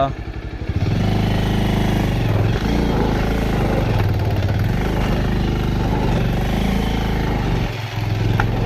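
A motorcycle in first gear on a dusty road gives a loud, steady, rough engine drone with clattering texture, dipping briefly near the start and again toward the end.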